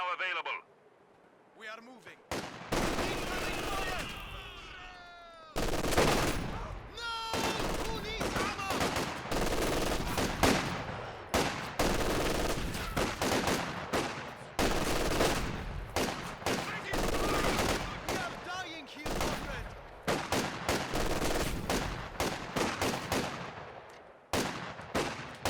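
Bursts of machine gun and rifle fire in Company of Heroes 2, unupgraded guards troops charging against LMG Grenadiers, dense rattling volleys and sharp shots in rapid clusters across the whole stretch, loud and continuous, with a commentator's voice over the battle.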